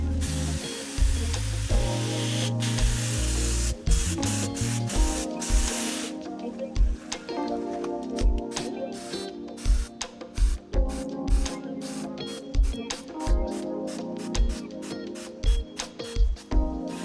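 A paint sprayer puts limewash on a house wall with a loud, continuous hiss at first, which then breaks into many short bursts of spray separated by brief pauses.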